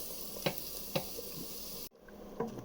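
Food fries in a pan with a steady soft sizzle, broken by a few sharp clinks or stirring knocks at spaced intervals, close by and moderately quiet, cutting off briefly before the frying resumes.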